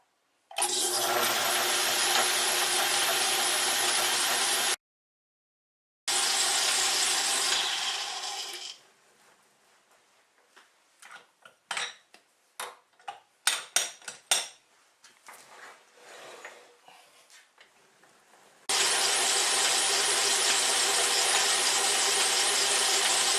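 A metal lathe cuts down a reinforcing tube piece, with long stretches of loud, steady broadband cutting noise broken by a pause and a quieter middle section of scattered clicks and clanks.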